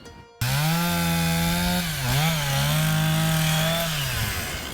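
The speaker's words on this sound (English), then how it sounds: "that is the sound of progress as volunteers working to break down fallen trees" A chainsaw starts abruptly and runs steadily nearby, cutting up fallen trees, its engine pitch dipping briefly mid-cut before rising again, loud and continuous with no talking.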